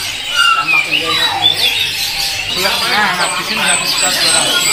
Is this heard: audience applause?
no